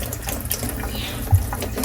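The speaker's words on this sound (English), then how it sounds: "I'm gonna wash back the leaves because they're dirty." Tap water runs steadily into a sink while dirty Monstera adansonii leaves are washed after repotting, a continuous close splashing wash with a brief louder splash near the end.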